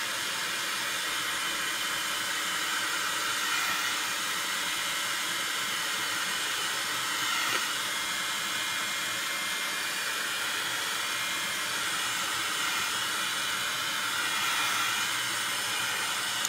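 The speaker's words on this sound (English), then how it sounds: "I just want to hit these with the heat tool just to make sure they're really dry" An embossing heat tool blows a continuous, even hiss of hot air over watercolor paper, close and steady throughout with no speech.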